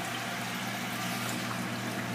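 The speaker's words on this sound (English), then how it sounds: "That gets the water system going." Pump of a crayfish tank water system running in a lab room, giving a steady, continuous hum with a faint flow of water that holds evenly throughout.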